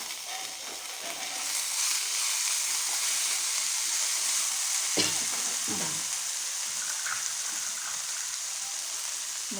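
Tomatoes are frying in a pan with potatoes in a steady, dense sizzle. A couple of sharper scrapes of stirring come midway, and the hiss stays loud throughout.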